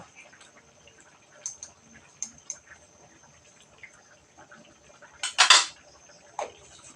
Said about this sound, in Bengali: আঁচে রেখে দেব এবার একটু নাড়াচাড়া করে নেব